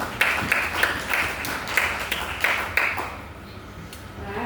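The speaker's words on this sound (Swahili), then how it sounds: "Tuje makofi ya shangwe kwa ajili ya Bwana." A church congregation claps together in a steady rhythm, about two claps per second, loud and close for roughly three seconds before fading into quiet room sound.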